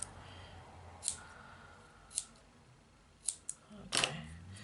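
Scissors cutting card ends for a DIY envelope book box: four or five short, crisp snips spaced about a second apart, close and quiet against a faint background.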